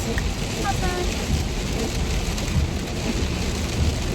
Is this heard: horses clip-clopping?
no